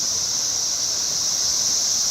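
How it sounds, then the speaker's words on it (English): Billions of Brood X periodical cicadas freshly emerged from the ground produce a dense, unbroken high-pitched droning chorus, steady and loud throughout with no breaks. "Yes, that is the sound of billions of cicadas that have emerged from the ground"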